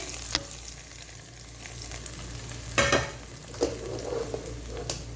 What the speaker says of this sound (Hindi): अब जो मेरा ये बन चुका है तड़का, मैं सारा इसके अंदर शामिल कर दूंगी ऐसे